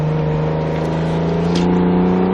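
An Acura NSX holds the throttle through a tight left on a track, a loud, steady engine drone with a strong sustained tone that rises slightly, heard close from inside the car with no talk.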